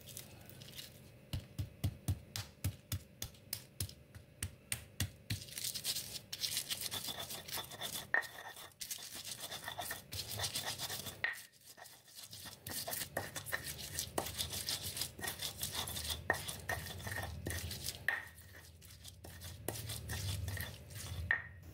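Sambal ingredients with toasted or fried shrimp paste being ground by hand, first in brisk rhythmic scraping strokes, then in a denser, continuous rubbing grind, close and moderately loud.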